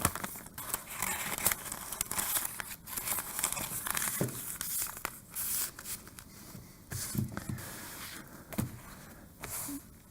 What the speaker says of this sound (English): So 4 pieces of butcher paper that will slide in.